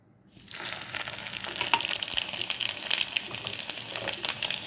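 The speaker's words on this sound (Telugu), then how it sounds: "ఇప్పుడు నేను పోపు వేసేసుకుంటానండి. ఆవాలు, జీలకర్ర, ఎండుమిరపకాయలు, వెల్లుల్లిపాయలు" Mustard seeds, cumin, dried chillies and garlic hit hot oil for a tempering, bursting into a loud, steady sizzle with scattered crackles and pops that continue to the end.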